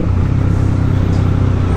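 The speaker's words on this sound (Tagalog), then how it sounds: "Grabe naman yung traffic." Dense road traffic rumbles as a steady, loud low engine hum close by, heard from a Honda CB150X motorcycle threading through congested streets.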